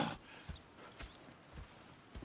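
Horse hooves clip-clop in an uneven rhythm in the Western game Red Dead Redemption, with a faint whinny, fairly quiet and with no voices.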